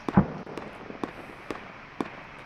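Enemy vehicle gunfire in the Squad military shooter, a handful of sharp, evenly spaced distant shots, roughly one every half second, with a louder crack near the start and no talk.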